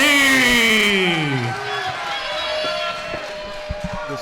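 A crowd at an MMA fight roars and cheers loudly for a moment, and the noise then settles into a lower crowd murmur.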